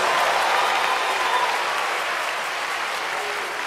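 A church congregation claps hands during worship, a dense, even roar of many hands held at a steady level with no voices standing out.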